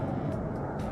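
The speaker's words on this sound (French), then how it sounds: "Encore un avion, ça veut dire." An airplane passing overhead while outdoors on a golf course, a steady broad low rumble that fills the whole short moment.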